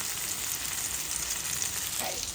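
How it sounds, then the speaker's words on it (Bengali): Chicken pieces for malai chicken tikka sizzle steadily in a hot pan, a continuous close crackling hiss with no voices. "চিকেনটা সুন্দর ভাজা ভাজা হয়ে গেছে"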